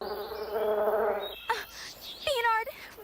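Animated cartoon bees take off to fight, producing a close, loud buzzing hum that drones for over a second, then breaks into shorter buzzing bursts with a sweeping whine near the end.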